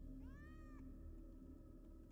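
A cat in a dark Roblox survival game gives a single short, rising meow, faint and somewhat distant, over a steady low hum of ambient game noise.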